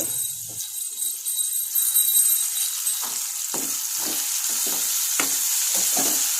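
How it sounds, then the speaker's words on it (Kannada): Tomatoes and onions frying in oil for Indian-style vangi bath, a steady broadband sizzle with scattered stirring clicks and scrapes throughout, close and moderately loud, no voices. "ಟೊಮೊಟೊನ ಎಣ್ಣೆಲಿ ಚೆನ್ನಾಗಿ ಫ್ರೈ ಮಾಡ್ತೀನಿ."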